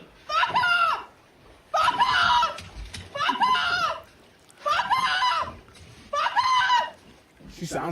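A bird squawks in five loud, harsh bursts of about a second each, evenly spaced with short pauses between them, close and clear.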